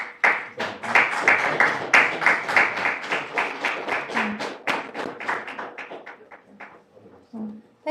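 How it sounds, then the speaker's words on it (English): A conference audience in Manipur claps for several seconds. The rhythm is rapid and uneven, with sharp individual claps that thin out toward the end, along with a few soft thuds. "A round of applause, please."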